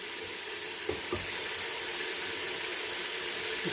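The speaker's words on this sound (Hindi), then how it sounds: "अब हम इसमें ऐड करेंगे वो बेसन वाला पानी" Gram flour water poured into a pan of hot fried masala for kadhi pakora sets off a loud, steady sizzle and hiss, with a couple of soft bumps early on and no talking.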